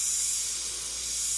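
Spray paint hisses steadily onto a Claybord panel while painting a Corvette, a close, continuous bright hiss lasting about a second and a half with a slight dip in the middle.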